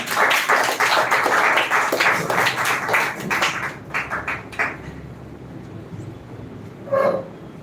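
An audience at a speech competition claps for the next speaker, loud dense applause for about four seconds that breaks into scattered individual claps and fades, followed by a brief sound near the end.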